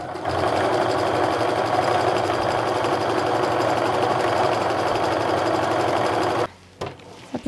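Steady, close whir of a sewing machine running straight through a pieced quilt strip in one continuous burst, stopping abruptly near the end, followed by a few faint handling clicks.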